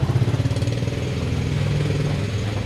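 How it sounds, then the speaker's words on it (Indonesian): A motorcycle passes on a narrow road, giving a close, pulsing engine putter that starts loud and choppy, then settles into a steady mid-pitched drone for a few seconds with no talking. "kita nunggu satu persatu motor yang lewat"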